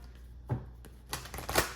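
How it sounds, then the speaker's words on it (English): Tarot cards get a quick shuffle, a few short papery slides and flicks close by, with brief quiet gaps between them. "I just felt like I needed to shuffle."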